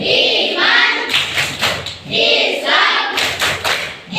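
A class performs the tepuk PAI chant during an Islamic education lesson, with rhythmic bursts of group clapping and thumping alternating with chanted voices, loud and close.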